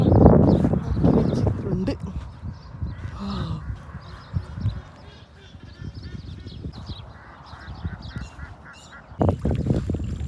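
Birds call at Al Qudra Lakes, Dubai, including duck-like quacks and honks, beneath and between stretches of people talking outdoors.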